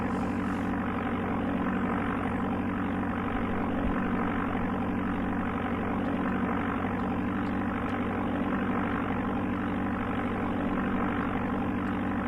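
Propeller airplane engine in the Amiga game Flight Simulator II, a steady synthesized drone with a constant pitch that hums loudly and evenly throughout, alone with no talking.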